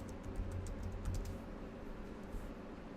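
Fingers typing a password on a computer keyboard, a quick run of soft, close key clicks that thins out toward the end, quiet and with no talking.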